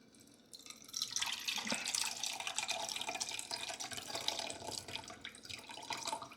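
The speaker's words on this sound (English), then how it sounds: "Just pour some into a cup." Cooking liquid from pork carnitas poured out of an Instant Pot into a cup, a steady trickling, splashing stream that starts after a brief quiet moment and runs on without pause.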